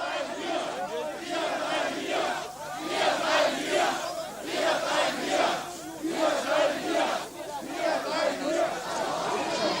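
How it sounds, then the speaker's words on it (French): Thousands of demonstrators march through the streets of the capital near Alexanderplatz, shouting a rhythmic chant together; the crowd's voices rise and fall in repeated loud waves, filling the space continuously. "Des milliers de manifestants parcourent les rues de la capitale en criant « Nous resterons ici »"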